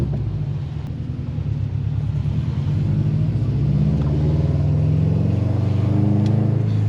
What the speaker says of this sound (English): the rumble is just so toned and so classic.